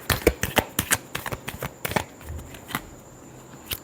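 Tarot cards are shuffled by hand in quick, crisp riffles and flutters that come close and clear, with dense bursts early on easing into sparser flicks toward the end.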